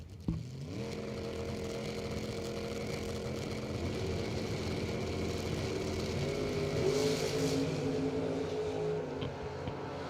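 Drag race launch between a 1967 Chevelle and a green lowered S10 pickup: engines roar loudly and steadily, then rise in pitch as the cars accelerate down the strip.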